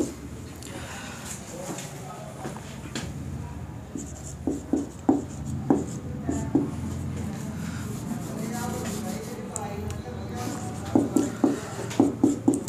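Chalk or marker writing on a board during a Hindi chemistry lesson on electrolytes, a series of short tapping, scratching strokes in bursts, heard under a teacher's steady speech.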